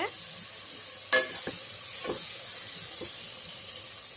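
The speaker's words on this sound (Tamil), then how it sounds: "இது எல்லாத்தையும் சேர்த்து நல்லா கலந்து விட்டுருங்க" Biryani masala, spices and oil sizzle and hiss in a pan while being stirred for prawn biryani, a steady frying hiss broken by several scraping stirring strokes.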